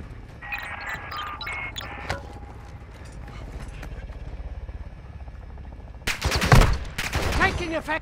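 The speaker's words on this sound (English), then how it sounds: "Taking effective fire." Incoming gunfire in a shooter video game: a steady mechanical hum gives way near the end to loud, rapid bursts of shots, close and harsh, with some voice chatter.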